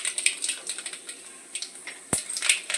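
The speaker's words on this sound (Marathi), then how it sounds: "मोहरी पण छान तडतडली आहे" Mustard seeds crackle and pop in hot oil in a heated pan, with sparse, sharp little snaps scattered over a faint sizzle.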